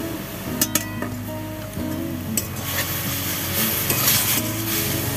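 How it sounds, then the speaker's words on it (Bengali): Mustard greens fried in raw mustard oil in a pan, with a steady sizzle under repeated scraping and stirring and a few sharp clinks of the utensil against the pan. The sounds stay close and continuous, with no talking. "শাকটাকে একদম পুরো একটু ভেজে নেবে"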